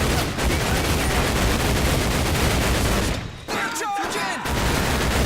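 Rapid gunfire rattles through Medal of Honor Pacific Assault, a dense continuous fusillade of loud shots that briefly drops out before a few ricochet-like whines and resumes, with a voice talking faintly under it.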